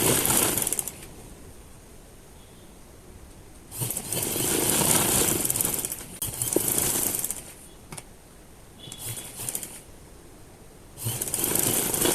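A sewing machine stitches narrow side piping onto a kameez in several bursts of rapid running, separated by quiet pauses, close and clear with no talking.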